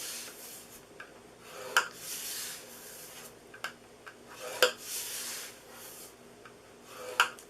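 Cardstock being scored for a treat box, a series of soft scraping rubs along the paper, broken by several sharp clicks and taps, close and fairly quiet with no talking.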